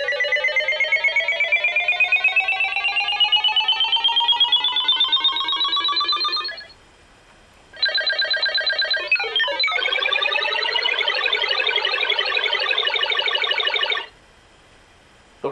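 BBC Micro computer synth tones sweep upward in long sustained bursts, with a brief gap, a quick warbling chirp, then a buzzy rising tone, loud and without speech.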